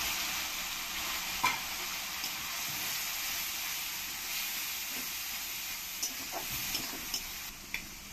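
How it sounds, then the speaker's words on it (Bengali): Tomato paste, ground spices and onion frying together in a pan for a rohu fish curry, giving a steady close sizzle with a few sharp scrapes and stirring clicks near the end. "টমেটো পেস্টটা দিয়ে ভালো করে আমি পেঁয়াজের সঙ্গে মিশিয়ে নেব।"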